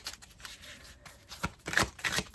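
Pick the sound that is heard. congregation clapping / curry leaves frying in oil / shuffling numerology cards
shuffling numerology cards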